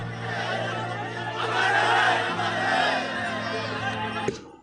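A crowd gathers in Chhattisgarh as the body of martyred soldier Deepak Bharadwaj arrives, giving a continuous murmur and raised shouting that swells in the middle and then settles, ending with a brief knock.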